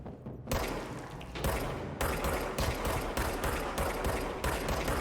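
Sustained rapid gunfire from the video game Control, with dense bursts of shots and thuds packed one after another, loud and continuous across the whole stretch with no talk.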